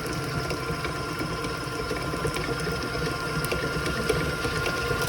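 A Kenwood stand mixer whisking butter at speed setting 2, a steady close mechanical whir and rattle of motor and beater that runs on evenly without any talking.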